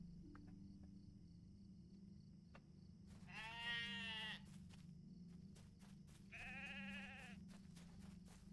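Sheep in the Lord of the Rings Online game bleating twice, each a loud wavering cry about a second long, over a quiet, steady background hum with faint cricket-like chirps.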